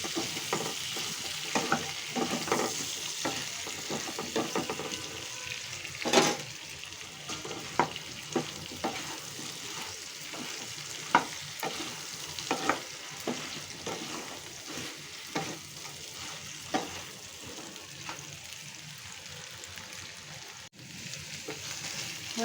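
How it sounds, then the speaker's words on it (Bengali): Potatoes and pointed gourd with a little turmeric fry steadily in a pan, a continuous close sizzle broken by frequent stirring scrapes and clinks, with no one talking. "এখন একটু ভেজে নেব আলু পটলগুলো।"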